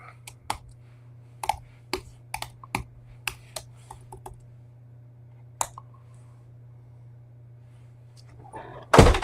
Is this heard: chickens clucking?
no